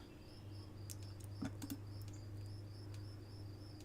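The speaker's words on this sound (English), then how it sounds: "Seems like the crickets in the background are enjoying the stream too." Crickets chirp steadily in the background outdoors, faint repeated high trills with a few light taps and patters over a low hum, no voices present.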